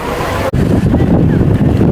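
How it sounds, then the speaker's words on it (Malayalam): Rough Indian Ocean waves crash and churn under strong wind along the coast, a loud, dense roar buffeted by wind noise with a sharp break midway. "അടുത്തോട്ട് പോലും പോകാൻ കഴിയുന്നില്ല, ഒരുപാട് തിര അടിക്കുന്നുണ്ട്"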